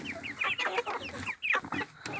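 Brown hen and other chickens cluck in a steady run of rapid, overlapping calls, moderately close, with no voices.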